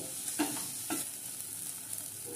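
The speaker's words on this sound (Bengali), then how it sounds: "কর্নফ্লাওয়ারটা একটু ছড়িয়ে নেব, দিয়ে ভালো করে সবগুলো নেড়ে মিশিয়ে নেব" Paneer filling, with cornflour and lemon juice added, is stirred in a pan, giving a couple of soft spoon scrapes over a low, continuous frying sizzle, with no voices.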